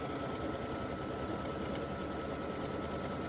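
An embroidery machine stitching a pink applique placement line, a steady, fast mechanical whir and rapid needle chatter running evenly throughout, close and unbroken.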